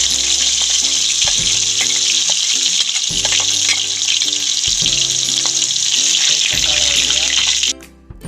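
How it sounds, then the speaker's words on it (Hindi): Cumin and garlic fry in hot oil with a loud, steady sizzle and crackle, broken by a few light stirring clinks. The sizzle cuts off sharply near the end. "अब हम इसमें लहसुन भी डालेंगे।"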